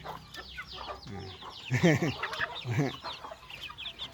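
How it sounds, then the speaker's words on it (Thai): Young chickens being shown cluck and chatter close by, a series of short squawking calls that peak in a louder burst midway, with someone talking faintly in the background. "อันนี้เป็นไก่ซีนะครับ"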